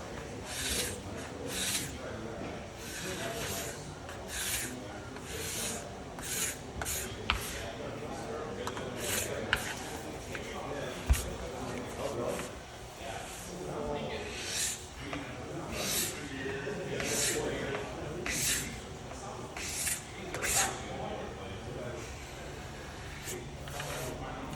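A hand scraper drawn in repeated short, raspy strokes across a newly finished wood floor while repairing a scratch, close and fairly quiet, with a person talking now and then between the strokes.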